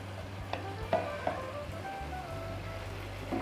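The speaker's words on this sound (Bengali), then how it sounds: "আরও একবার আমি খুব ভালোভাবে নেড়ে দিলাম" A spoon stirs Bengali-style jackfruit kofta curry finished with ghee in a pan, a few scraping knocks rising over a steady, close sizzle.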